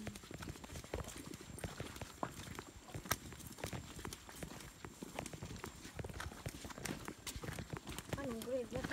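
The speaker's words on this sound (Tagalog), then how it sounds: "Diba dito yung dumaan yung kabayo?" Horse hooves clip-clopping along a rural farm path near streams in the Philippine countryside, a close, busy run of irregular knocks with people talking over them throughout.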